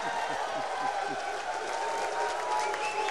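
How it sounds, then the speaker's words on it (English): Crowd applause and cheering at a professional nine-ball billiards match after a hard-hit shot, a steady dense wash of clapping held at an even level throughout, with commentator voices mixed in underneath. "the crowd is going crazy here"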